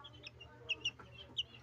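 Month-old chicks with green legs peeping and clucking nearby in a few soft, high chirps spread over a low background hum, without speech.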